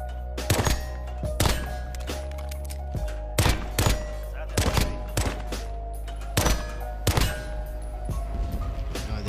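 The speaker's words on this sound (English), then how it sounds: "There's the fireworks." Fireworks in Call of Duty: Modern Warfare burst in a rapid series of sharp, loud bangs and thumps at irregular intervals over a steady low game drone.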